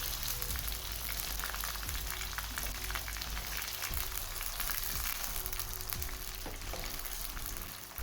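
Chicken frying in a karahi pan gives a steady, soft sizzle with crackling bursts and the occasional stirring scrape, continuous and close, fading slightly at the end.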